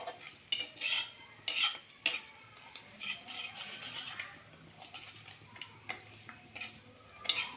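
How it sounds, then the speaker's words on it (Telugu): A spoon stirs ghee as it cooks in a pot, making repeated light scraping and clinking strokes against the metal over a faint bubbling, close but soft. "కొంచెం అలా కలబెడుతూ ఉండాలి. కింద అడుగు పట్టకుండా అలా కలుపుతూ ఉన్నామంటే చాలండి"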